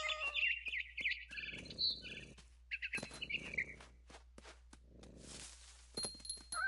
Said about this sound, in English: the bird was really scared